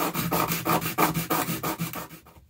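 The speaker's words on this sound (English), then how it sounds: "A little bit of light sanding on the side there should help." Light sanding on the side of a small SD2SP2 Pro adapter part for a Nintendo GameCube: about a dozen quick, even back-and-forth rubbing strokes, close and clear, stopping abruptly, with no talking.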